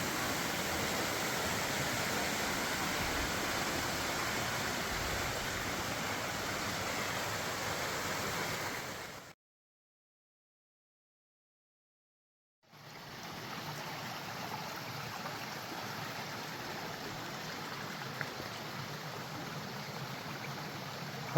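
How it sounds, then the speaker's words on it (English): A waterfall and stream of clear water in Weardale rush with a steady, broadband roar, up close and alone, cutting out to silence for a few seconds midway before resuming. "another waterfall."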